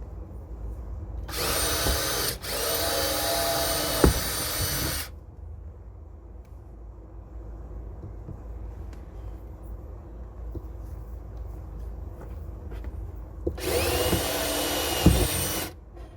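A power drill drives screws through a heavy board while a BMW subwoofer enclosure is fastened in place: two loud whirring bursts, roughly four and two seconds long, separated by a quiet gap of light handling noise.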